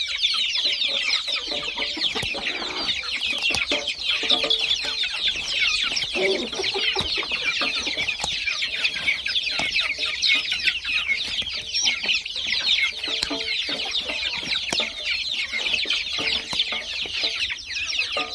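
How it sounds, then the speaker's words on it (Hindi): Several desi chickens cluck steadily and continuously at close range, with occasional sharper calls from the flock. "ये हमारा देसी प्योर मुर्गा,"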